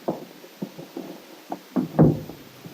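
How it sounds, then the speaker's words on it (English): A gloved hand knocks on a cottage door in a series of soft, muffled raps, irregularly spaced and building to one heavier knock near the end, with no voices. "As she lifted her gloved hand to knock, the door was opened by Bill."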